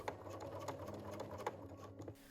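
A sewing machine stitches a seam on tailored trousers, its rapid mechanical chatter running close and steady with a few faint clicks, stopping just before the end.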